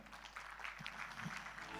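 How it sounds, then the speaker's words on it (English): Audience applause for the moderator at an Indonesia-Europe investment forum: a steady, faint patter of clapping that fills the whole stretch without a break. "Let us give a big round of applause for our moderator."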